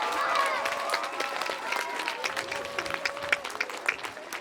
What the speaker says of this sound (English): Can we have another round of applause for our orchestra and band?